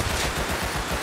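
Rapid gunfire in the game Rust, a brief loud burst of shots crackling over a dense, noisy backdrop.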